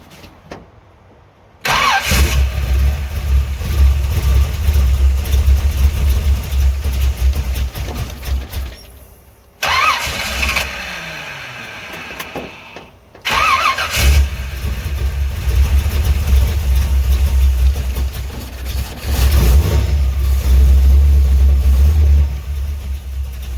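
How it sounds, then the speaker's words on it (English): A Chevrolet C10 truck with a ZZ4 V8 cranks, fires up and settles into a loud, deep idle, with a couple of short dropouts and a slight rev late on. The engine still has issues after fuel pump work. "So pumped a little gas to her and hit the key, she fired right up."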